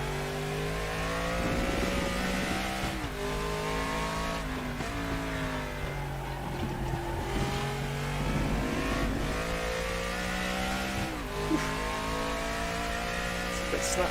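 A Group 5 race car engine in RaceRoom Racing Experience screams through repeated upshifts and downshifts, its rising and falling whine heard up close and continuous, with brief tire squeal and no speech.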